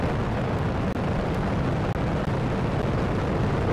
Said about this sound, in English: Booster ignition and liftoff of Shuttle Endeavour with NASA's final space station crew compartment